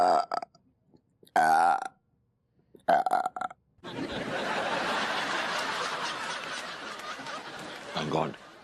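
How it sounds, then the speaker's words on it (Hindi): A loud, drawn-out burp rumbles for several seconds at close range, preceded by short bursts of talk and a brief vocal sound. "डकार आ गई इनको।"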